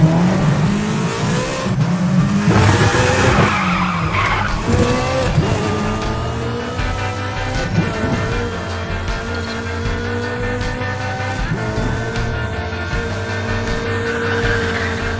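Racing cars in the Need For Speed The Run video game roar and rev loudly throughout, engines climbing and shifting as tires skid and squeal, with no talking.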